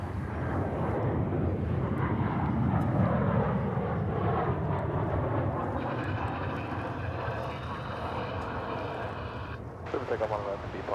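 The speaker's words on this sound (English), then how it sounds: "here comes a flight from Kansas City" Jet airliner arriving at Dallas/Fort Worth Airport, a loud engine roar swelling and sweeping in pitch as it passes close by, with a person speaking over it.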